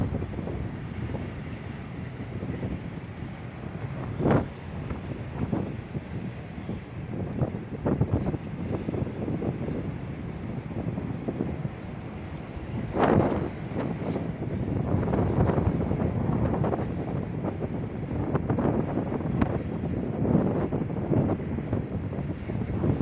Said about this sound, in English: Windy as all get out right now.